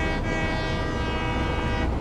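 A locomotive horn in the factory-building video game Satisfactory sounds as one long, loud, steady toot over the rumble of a train, lasting the whole moment.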